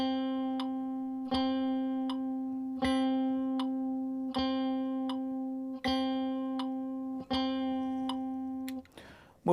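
Guitar picks out half notes in four-beat measures, each note struck and left ringing over a steady held tone, the plucks falling at regular intervals and close up.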